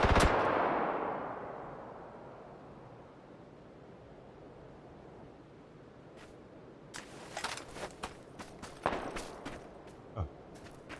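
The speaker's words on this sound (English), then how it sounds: "My gun's too loud." Gunfire from a gun in a video game: one loud blast fading at the start, then scattered sharp shots and bursts building toward the end, with no talk.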